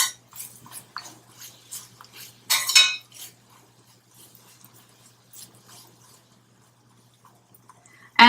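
Pecans clink and rattle against a pan as they are tossed in boiling sugar, with scattered light metallic taps, a louder scraping burst near the start, and quiet gaps between.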